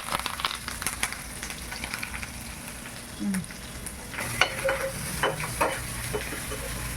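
Green chillies, curry leaves and cumin seeds fry in hot oil for a fish curry, giving a steady close sizzle with crackling pops and brief stirring sounds throughout, no talking.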